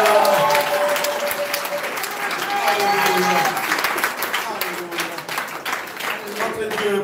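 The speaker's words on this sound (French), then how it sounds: "Une acclamation, c'est comme une offrande aussi." A church congregation applauding and cheering in praise of God, sustained loud clapping from a crowd with shouts and voices mixed in throughout.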